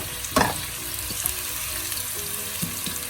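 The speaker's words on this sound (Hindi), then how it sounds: "तेल गर्म हो चुका है तो हम इसमें प्याज डालेंगे" Chopped onions dropped into about half a cup of hot oil for Pakistani-style chicken wraps, giving a sharp burst of sizzling that settles into a steady, close frying crackle with occasional stirring clinks.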